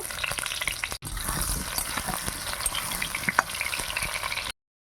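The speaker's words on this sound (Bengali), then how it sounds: "প্রথমে আলুগুলো ভেজে নেব" Potatoes fry in hot oil in a wok over a stove, a close, dense sizzle with crackles and a brief stirring break, alone and continuous before it cuts off.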